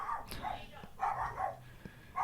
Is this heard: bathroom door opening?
no